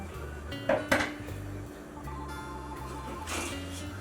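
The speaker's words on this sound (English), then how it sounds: "put our Mostaccioli into a dish" Baked mostaccioli pasta being spooned into a baking dish: two quick clattering scrapes close together early on, then only a faint rustle under soft background music.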